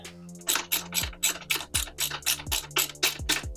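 A wrench ratchets rapidly in a steady clicking rhythm, tightening the four bolts that attach a Dewalt table saw frame to its cart frame, close and clear with no talk.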